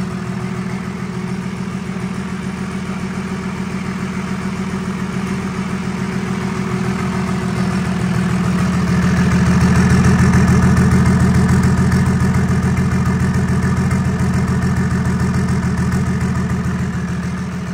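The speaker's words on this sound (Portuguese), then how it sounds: "Dando aquela esquentadinha no motor." An MWM Sprint 6CL engine fitted with a 150 hp kit idles as it warms up, a loud, steady rhythmic clatter that swells in the middle and then settles back to an even idle, with no talking.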